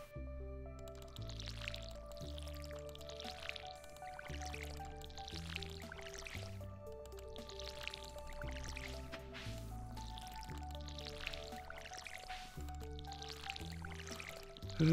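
Crops are watered with a watering can in the Stardew Valley video game: repeated soft splashing pours at roughly one-second intervals over looping game music.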